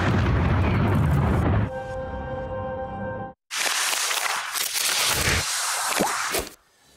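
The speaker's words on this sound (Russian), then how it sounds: "10 залпів з військової установки буде чутно над усім містом." Artillery salvos fired from a military installation over a city: heavy booming blasts with rumbling, crackling tails, loud and close, several bursts running together with brief gaps between them.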